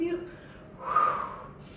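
Deep breathing inhale during a guided meditation practice, one soft airy breath swelling in the middle and fading, close and quiet, with no talking.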